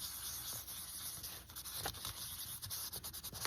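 Soft, close rubbing inside a handmade scrappy Christmas card while the glue is still wet, a quiet papery scuffing of short strokes against low background hiss.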